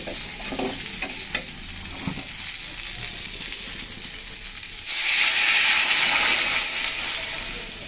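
Chilli powder frying in oil in a thin fish curry with cauliflower is stirred with a soft sizzle and scraping, then water is poured in, setting off a sudden, louder, sustained hiss close by that continues to the end.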